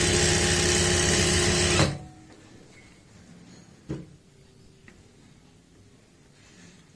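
A sewing machine runs along a trouser side seam toward the knee, a loud, fast, even whir lasting nearly two seconds, then stops abruptly. A single soft click follows in the quiet.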